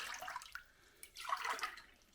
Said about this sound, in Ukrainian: На кожний кілограм айви я додам 200 мл е, води.